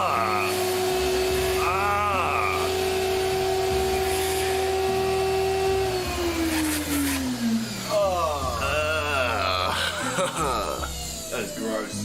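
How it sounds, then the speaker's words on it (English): A vacuum cleaner whines loudly and steadily, its pitch dropping as the motor changes, with a voice talking over the noise. "Maybe you shouldn't use such a powerful vacuum cleaner"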